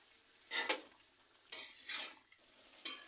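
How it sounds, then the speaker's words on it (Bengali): Duck meat being stirred and sautéed in a pot, three bursts of scraping and clinking from a utensil against the pot with soft sizzling between, close and fairly quiet, no talking. "দেখেন আমার মাংসটি কষানো হচ্ছে"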